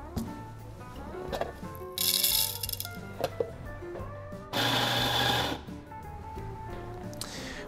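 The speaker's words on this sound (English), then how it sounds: "Drop some beans into the hopper and grind them into your hand." A Compak E5 espresso grinder grinds coffee beans in two loud bursts of gritty whirring, separated by quieter rattling and handling clicks, with no one talking.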